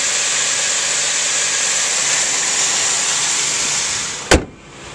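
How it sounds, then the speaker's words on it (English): A 2002 Dodge Intrepid SE with a V6 engine runs at a steady idle, a smooth continuous hum close by, broken near the end by a brief sharp knock or thump. "Engine sounds perfect."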